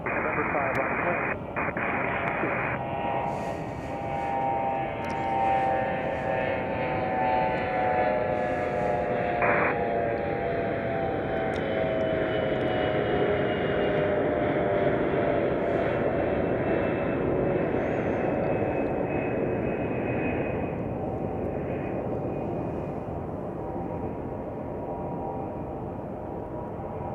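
An airliner takes off from runway 28 right at Chicago O'Hare, its broad engine roar rising and holding steady for the whole stretch while air traffic radio voices talk over it.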